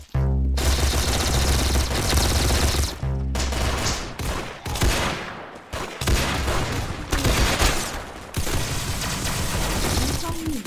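Rapid automatic gunfire bursts from the Roblox shooter game Arsenal, loud and repeated across the clip with brief gaps, mixed with game sounds and some voice activity.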